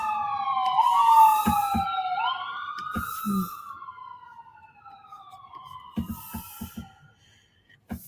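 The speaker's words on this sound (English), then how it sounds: "I think that's an ambulance." A wailing ambulance siren sweeps up and down over passing traffic, fading gradually as it moves away, with occasional thumps nearby.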